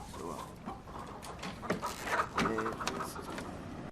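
Chickens kept on board a sailing ship cluck and squawk in a series of short calls over a busy, noisy background.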